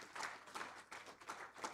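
Brief, faint applause from a conference audience for a team standing in the room, a few soft clustered claps rising and falling.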